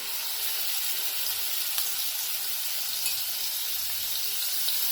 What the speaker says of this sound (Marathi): तेल गरम झालं ना की थोडं हिंग हे टाकून घेऊया आणि आपण जे हे कुटलेलं वाटण आहे ना हे पण टाकून घेऊया